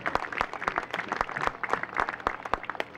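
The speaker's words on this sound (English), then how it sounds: "let's give it a round of applause, Torrance," Steady applause from a crowd, sustained claps with a few sharper ones standing out, moderately loud throughout.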